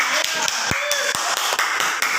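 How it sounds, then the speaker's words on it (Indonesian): A group of people claps hands together in a classroom, several sharp, close claps scattered unevenly over a couple of seconds amid a busy background. "Ya, kasih tepuk tangan semuanya."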